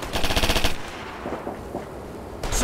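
Machine gun fire in the military shooter Operation Flashpoint: Red River, a loud rapid burst of shots up close, then a pause with scattered sounds and a second burst starting at the end.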